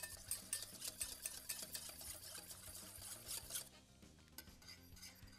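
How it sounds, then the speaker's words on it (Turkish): A wire whisk stirs a thickening dessert mixture with starch in a pot, quick scraping strokes tapping against the metal sides, close and fairly quiet, easing off near the end. "Şöyle aynı tel çırpıcıyla bir kere daha bir karıştıralım."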